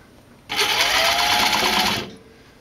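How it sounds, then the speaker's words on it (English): A sewing machine running in one short burst of about a second and a half while cover-stitching binding on a racerback tank top, its belt giving a close, steady, rubbery whirring hum. "So you can hear the machine sounds a little, I guess it's the belt that makes it sound like that."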